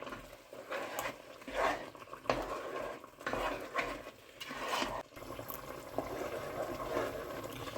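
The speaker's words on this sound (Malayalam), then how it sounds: "ഇതിലേക്ക് തേങ്ങാപ്പാൽ ചേർത്ത് കൊടുക്കാം. ജസ്റ്റ് ഒന്ന് ഇളക്കി കൊടുക്കാം" A spoon stirs coconut milk into a dried fish and mango curry in a pot, with soft repeated scraping and sloshing strokes and faint bubbling, quiet and close, without talking.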